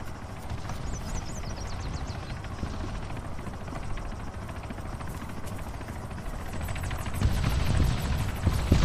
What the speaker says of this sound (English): Yeah, that chopper's circling you, dude.